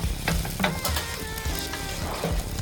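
Dosa batter sizzling and frying on a hot griddle pan in a village-style kitchen, a steady close crackle with occasional scraping and stirring clatter throughout, no voices.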